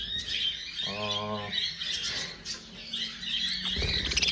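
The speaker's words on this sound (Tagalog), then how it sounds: "So, ito naman mga kaibon, yung mga budgie" Budgies and parakeets, including crossbred birds, chirp and squawk inside a flight aviary, a lively mix of close, bright calls and one clear harmonic squawk, with the flock's chatter continuing throughout.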